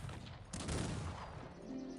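Cannon volleys in the Cossacks 3 strategy game: a dense, rumbling burst of booming shots swells after a moment and then trails into continuous battle noise.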